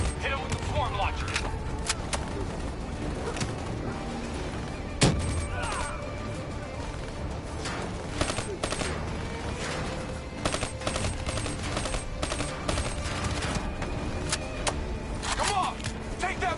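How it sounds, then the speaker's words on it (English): Rapid video game gunfire and launcher blasts during a firefight against hostiles in a building, with dense, continuous bursts and sharp cracks, a louder impact near the five-second mark, and shouted voices mixed in. "Hit them with the swarm launcher!"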